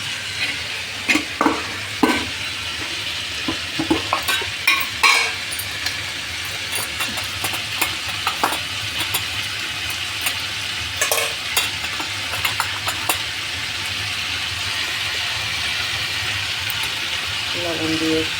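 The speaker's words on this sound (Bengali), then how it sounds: "সাম্বারের মশলাটা নুন হলদি সব দেবো, সর্ষে ফোড়ন দিয়েছি।" Sambar spices with salt and turmeric frying over a mustard-seed tempering, a steady close sizzle with intermittent stirring scrapes and clinks; someone talks over it.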